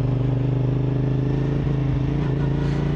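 A CFMOTO SR450 motorcycle engine hums steadily while riding, a strong low drone with a rapid pulsing beat, loud and continuous for a few seconds with no talking.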